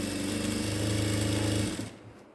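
A sewing machine stitching ladies' straight pants runs at a fast, even buzzing hum for under two seconds, then stops and winds down to quiet.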